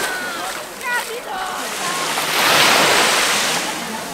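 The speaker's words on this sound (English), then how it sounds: "We've made it to the beach and it's really nice." Surf washing onto a calm sandy beach at Fontane Bianche in Sicily, a steady soft wash of small waves that swells gently toward the middle, with faint wind and some talk over it.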